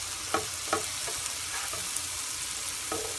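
Mushrooms fry in butter and spices in a crowded pan, a steady sizzle broken by several sharp taps and scrapes as a spatula chops them smaller, close up and with no talk.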